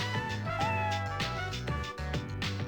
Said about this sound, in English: Was that a cat's voice?